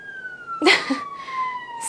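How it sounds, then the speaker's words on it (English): A siren wails steadily in the distance, a faint sustained tone that slowly falls in pitch, with a brief louder noise burst partway through. "there are sirens going off in the back"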